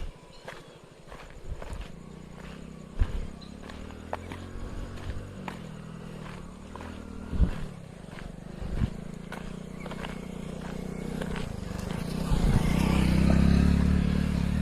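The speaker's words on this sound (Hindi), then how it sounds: "सामने बाइक आ रही है।" A motorbike approaching along a jungle track, its engine rumble building from faint to louder near the end, over outdoor ambience with scattered footstep-like knocks and crackles.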